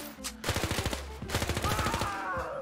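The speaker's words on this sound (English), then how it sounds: "Hey, I got you a silenced AK, bro." Rapid bursts of suppressed AK rifle fire in a video game, two quick volleys of sharp repeating shots, loud and close, with a short gap between them.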